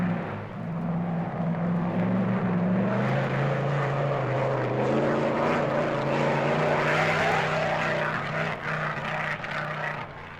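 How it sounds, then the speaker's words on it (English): A big 1950s Mercedes racing car on a still wet Oulton Park circuit, its engine a sustained rising and falling drone heard from a distance, swelling over several seconds as it approaches. "we can hear Brooks in the big car all the way from Druids as he fights the car on the still wet circuit"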